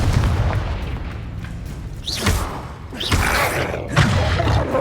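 Confringo blasting spells explode in the Hogwarts Legacy video game: a few heavy booms land roughly a second apart over a constant rumbling game backdrop, with no talking.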